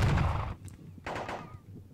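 Two muffled booms of artillery fire in the Napoleonic Battles Leipzig wargame, each a short burst of rumbling noise, the first louder and heavier, the second a moment later and softer.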